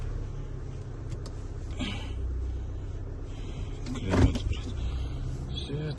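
Electric side mirrors on a car being inspected before purchase at a South Korean auction whir briefly, with a soft motor burst around the middle and a clearer one near the end over a low idling rumble.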